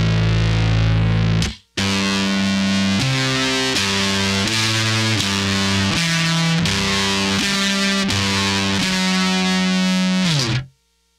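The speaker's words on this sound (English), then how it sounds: "It's a ring mod and an envelope follower and a distortion all kind of messed up together." A guitar runs through a ring modulator and distortion pedal, with clangorous, metallic, buzzing notes played in a stepping sequence, loud and up close.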